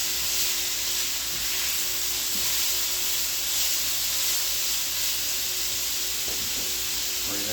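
Chicken sears and chars in a hot pan over medium-high heat for a Cajun rigatoni, giving a steady, even sizzle and hiss with no talk over it.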